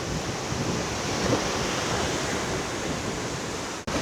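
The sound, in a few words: loud wind at night in Jomtien, Thailand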